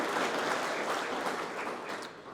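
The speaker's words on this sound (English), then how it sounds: "I'd like to give them a round of applause" An audience at a Platinum Jubilee investiture ceremony in a civic centre applauds members of the Legion and Sea Cadets, a steady wash of clapping at moderate volume lasting a couple of seconds, easing slightly toward the end.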